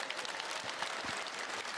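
Audience at CitizenCon, the Star Citizen convention, clapping in a steady dense burst of applause that fills the whole short moment, with no voices standing out.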